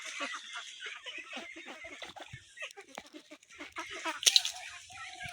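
One-month-old ducklings on a Bangladeshi duck farm raised on snails give soft, high, scattered peeps and chirps at moderate distance, with a brief louder burst near the end.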